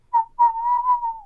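A person whistles a short, bright tune in imitation of a janitor at work, a few clear pitched notes followed by one long wavering held tone, close and alone with no talk.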